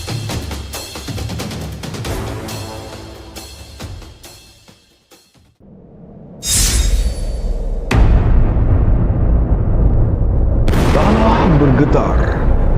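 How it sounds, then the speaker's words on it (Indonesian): A heavy cinematic explosion effect from an Indonesian horror drama about a war between two jinn clans bursts in loud and low, then a sustained roaring rumble holds over the rest after quieter dramatic sound design and narration-style sound earlier. "Kekuatan penguasa dua klan besar meledak tanpa ampun."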